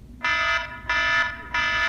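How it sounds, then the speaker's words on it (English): A smartphone alarm tone sounds three times in even, evenly spaced beeping bursts, each a bright, buzzy electronic tone lasting about a third of a second, loud and close. "So it's still an annoying alarm, but it's just a different annoying alarm."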